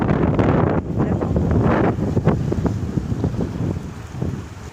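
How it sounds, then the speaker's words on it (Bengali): Cyclone Remal's strong wind sweeps over the Bidyadhari river, loudly buffeting the microphone in heavy, roaring gusts that surge and ease, with rushing air and water noise close by. "দেখো কত বেগে ঝড় হচ্ছে। এখন 80 থেকে 90 কিলোমিটার বেগে ঝড় হচ্ছে।"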